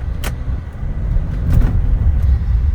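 A Hyundai Santa Fe all-wheel-drive SUV on the move, carrying a steady, loud low road rumble and engine drone from inside the cabin, with a few faint higher swishes over it and no talking.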